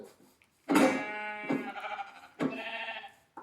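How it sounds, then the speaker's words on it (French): Sheep in a video game let out three loud, nearby bleats in a row with short pauses between them, alone and with no talking. "Les moutons."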